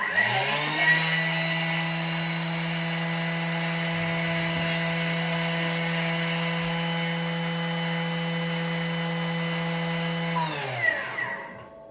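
A Thermomix blending sugar for shortcrust pastry, a loud steady motor whine that holds a constant pitch for about ten seconds and then winds down to silence, with no one talking over it.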